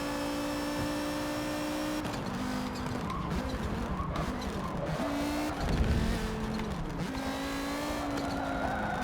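A race car from Forza Motorsport 7 drives hard through a race, its engine tone rising and dropping with gear changes while the tires skid and squeal. The sound is loud and steady, with no talking.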